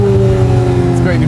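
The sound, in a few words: car engine revving at CES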